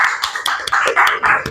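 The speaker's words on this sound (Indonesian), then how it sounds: "Beri tepuk tangan." Classroom audience applauding after a group presentation, a short burst of brisk, close hand claps in an uneven rhythm, fairly loud and lasting only a moment.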